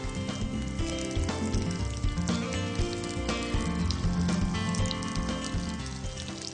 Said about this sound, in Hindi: हर साइड को 2 मिनट के लिए फ्राई करें और फिर पलटें